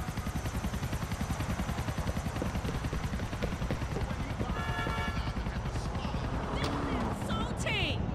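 Helicopter in Grand Theft Auto IV, a steady rapid rotor chop with engine drone running throughout the scene, joined near the end by brief higher-pitched game effects.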